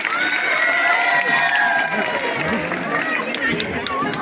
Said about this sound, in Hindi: बच्चों के लिए जबरदस्त तालियां बजाएं.